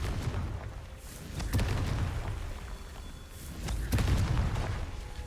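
Two heavy blasts from the Confringo fire spell in the Hogwarts Legacy video game, spaced a few seconds apart. Each is a booming, rumbling burst over a steady game background.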